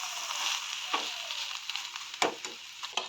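Egg batter frying in hot oil in a wok, a soft steady sizzle with a few sharp scraping or stirring clicks scattered through it, moderately faint and without talk.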